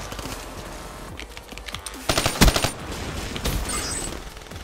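Gunfire in the video game Black Ops 3, a hardcore online match, with a rapid automatic burst loud in the middle, then scattered shots fading under game noise.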